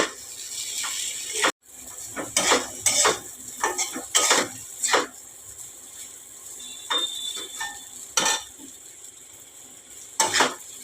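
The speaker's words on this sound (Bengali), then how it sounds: "গোলমরিচ গুঁড়োটা দিয়ে একটু ভালো করে নাড়াচাড়া করে নেবো" Pasta with Maggi masala and ground black pepper is stirred in a metal pan, giving a series of sharp scraping, clinking strokes at an uneven rhythm, close and fairly loud, with brief pauses between.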